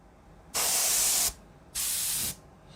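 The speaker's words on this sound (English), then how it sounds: "Air duster." Air duster can sprays twice in sharp, loud bursts of hissing compressed air, the first lasting about three quarters of a second and the second slightly shorter, with a brief quiet gap between.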